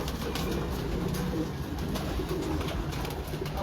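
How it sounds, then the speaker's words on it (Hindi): A large Sialkoti pigeon, a black-faced breed kept in a loft, coos in low, repeated throaty pulses over a busy, noisy background of other birds and fluttering. "यार ये सियालकोटी कबूतर है"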